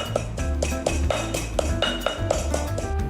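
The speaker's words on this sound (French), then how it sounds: "Écrasons les ingrédients ensemble en commençant par le poivre." Pepper, coriander roots and white soy paste pounded together in a mortar for a Thai shrimp lon, giving a steady series of about a dozen close, dull thuds and clinks at an even rhythm with no talking.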